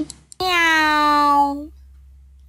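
A single cartoon cat meow, loud and drawn out for about a second, with a sliding then steady pitch, heard on its own.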